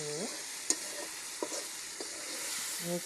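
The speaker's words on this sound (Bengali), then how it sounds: "এরপর মাছগুলো মশলার সাথে ভালোভাবে নেড়ে" Fish frying in oil and spices while being stirred, giving a steady, close sizzle broken by a few light clinks and scrapes of the utensil against the pan.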